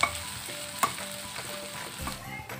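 Ginger and tomato frying in oil in a pan, a continuous close sizzle with sharp clicks of a spoon stirring at intervals.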